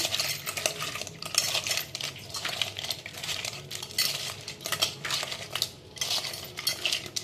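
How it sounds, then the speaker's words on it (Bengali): Crab pieces being mixed by hand with turmeric and salt in a metal pot, irregular clinks and knocks of shell against the vessel with wet rustling in between, close and fairly quiet. "এবার কাঁকড়ায় সামান্য পরিমাণ হলুদ সামান্য পরিমাণ লবণ ভালোভাবে মাখিয়ে নিতে হবে"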